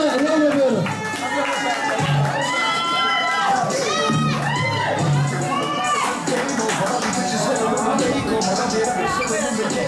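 A crowd at a darts match breaks into applause and cheering for the winning player, loud and sustained beneath an announcer's voice speaking over the hall.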